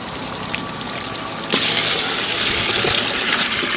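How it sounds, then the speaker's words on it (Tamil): Water poured into a pot of mutton masala for biriyani, a sudden steady gushing splash that starts partway through and keeps running loud and close to the end. "பிரியாணிக்கு அளவு தண்ணி சேர்த்துக்கலாம்."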